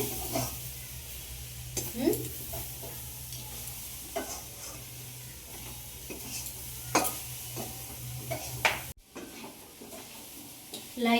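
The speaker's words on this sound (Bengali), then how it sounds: "ভাজা ভাজা হচ্ছে" Pitha fries in a pan for a Poush Sankranti festival, a steady hiss of oil under scraping stirs and occasional pan clatter, with a low hum beneath and a brief pause near the end.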